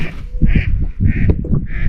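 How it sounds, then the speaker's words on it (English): Geese honk repeatedly at Shell Lake in Merriman Precinct, Nebraska, loud nasal calls in bursts of three or four, close and overlapping, with no talk. "Those are geese."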